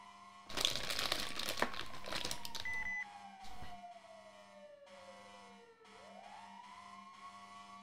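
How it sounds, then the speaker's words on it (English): Fire engine siren in a firefighting video game, a faint wailing tone that sweeps slowly down and then rises again, partly masked early on by loud crinkling and rustling noise. "God, that bloody siren."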